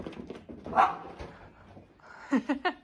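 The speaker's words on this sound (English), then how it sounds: "She'll also bark as well when we are playing" A Cavapoo dog lets out a few short barks and yips in quick succession while playing, close by and fairly loud.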